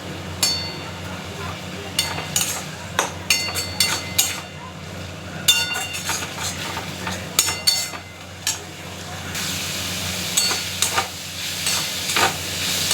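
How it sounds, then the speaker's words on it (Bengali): Red amaranth leaves frying with peanuts and poppy seeds in a pan, a constant sizzle broken by repeated sharp scrapes and clinks of a spatula against the metal, close and clear. "বাদাম পোস্ত দিয়ে লাল শাক ভাজা হয়ে গেছে"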